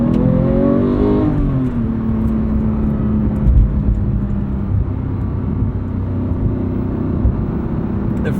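A manual Porsche 991.2 GT3 engine pulls hard under acceleration, a loud close-up rising harmonic drone that climbs, shifts and keeps roaring steadily with no talking.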